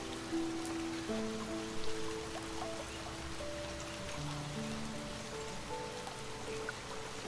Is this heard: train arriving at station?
no